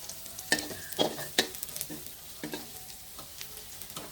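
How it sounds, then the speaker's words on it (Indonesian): Minced garlic is stir-fried in about two tablespoons of cooking oil in a wok, with a soft steady sizzle broken by sharp clinks and scrapes of the spatula stirring at an uneven pace, close up. "Saya tumis dulu untuk bawang putih cincangnya ini dengan sedikit minyak"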